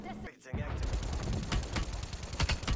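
AK-47 automatic gunfire in the video game Call of Duty: Black Ops Cold War, loud rapid bursts of shots after a brief pause, with sharp cracks repeating through the end.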